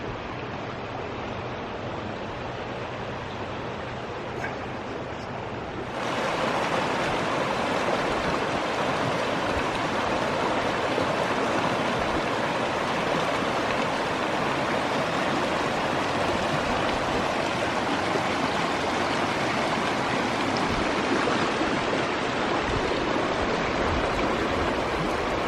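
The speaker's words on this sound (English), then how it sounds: "Listen to this beautiful creek" A flowing creek near a campground hiking trail, a broad steady rush of water that swells louder after a few seconds and then holds close and constant with no voices.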